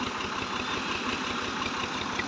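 Tractor engine idling steadily while it pumps water on a Pakistani farm, a close, continuous low rumble with a faint rhythmic throb and no talk.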